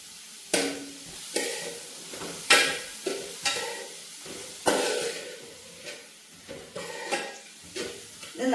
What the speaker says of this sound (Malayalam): ഇനി നമുക്ക് ഈ സബോള ഒന്ന് നന്നായിട്ട് വഴറ്റിയെടുക്കാം